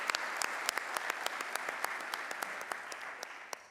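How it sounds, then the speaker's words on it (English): A conference audience gives a round of applause with dense, continuous clapping and scattered sharp individual claps. It sounds faint and moderately distant throughout. "if you could give Peter Frosch a round of applause for all of the work that he's done at Greater MSP."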